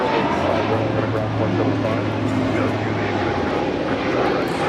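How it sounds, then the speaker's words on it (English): A Spirit Airlines Airbus A320neo departs LAX, its engines a loud, steady broadband roar with a low droning tone running through most of the stretch, without any clear talk over it. "This is Spirit Airlines Flight 1265 departing to Houston Intercontinental on an A320neo"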